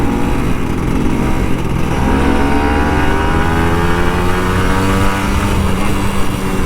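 A Kawasaki Ninja RR 150 two-stroke motorcycle engine revs loudly up close, its buzzing pitch climbing steadily through sustained throttle with no talking.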